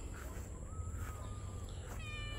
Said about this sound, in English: The attack cat found a hole.